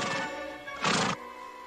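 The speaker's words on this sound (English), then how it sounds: "Sam, I raised that horse from just a colt." A horse neighs in a Western setting, giving a short, loud, harmonic whinny that rises into a brief breathy burst before trailing off, heard alone over steady background.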